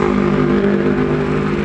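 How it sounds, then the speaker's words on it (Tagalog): A motorcycle engine idles steadily nearby, a loud, continuous drone with a constant pitch and no pauses, heard on its own with no talking over it. "Hindi ko na pinatay yung motor ko"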